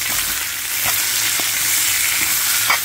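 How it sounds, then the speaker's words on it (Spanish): Meat and onion frying side by side in a pan, a steady broadband sizzle with a few soft stirring knocks, close and continuous. "Ahí se queda la carnita y de este lado pues ya va la cebolla."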